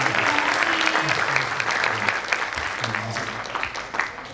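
An audience at a university energy talk in Malang claps in a sustained round of applause, dense and fairly close, with a voice speaking over it.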